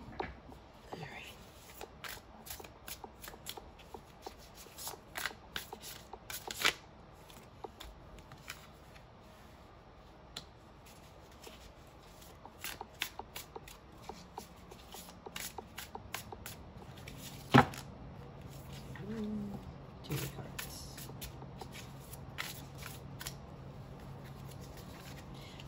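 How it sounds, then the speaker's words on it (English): Cards from a tarot-style reading deck with slightly sticky cards being shuffled, soft repeated riffling and snapping taps at close range, with a quiet low hum underneath. "So this deck is a little bit hard to shuffle."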